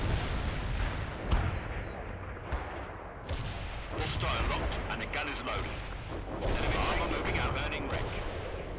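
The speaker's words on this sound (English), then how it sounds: "Artillery. My artillery." Artillery fire in the World in Conflict video game: repeated loud booms and gunfire bursts rolling over one another, with battlefield noise throughout.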